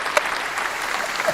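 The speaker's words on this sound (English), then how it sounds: "Let me get you some claps" Brief burst of clapping for a guest, steady and close with no voices over it.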